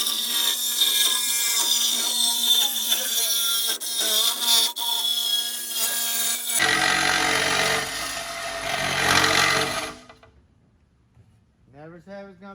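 Power tool buffing weld off a JW Ultra-Bell housing bolted to a table, a loud steady grinding whine for about ten seconds that shifts pitch midway, then stops abruptly, leaving faint sounds.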